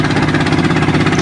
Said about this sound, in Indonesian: penggiling padinya datang ke rumah